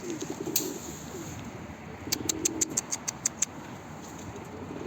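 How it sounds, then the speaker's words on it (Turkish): Pigeons in a loft cooing and calling at a stray bird that has landed among them; soft low coos at first, then a quick run of about ten sharp, evenly spaced calls up close, no talking. "Bak bütün kuşlarım ona ötüyor şu an."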